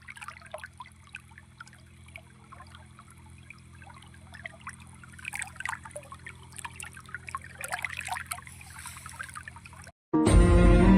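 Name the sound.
irrigation water gurgling in a sugarcane field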